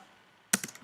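Fingers type on a computer keyboard while entering data: quiet at first, then a quick burst of several close, crisp key clicks in an uneven rhythm.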